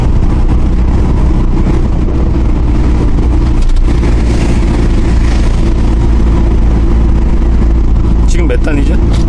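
The engine of a 1998 Hyundai Porter truck drones loud and steady during a test drive, a deep continuous rumble with road noise throughout and voices heard over it.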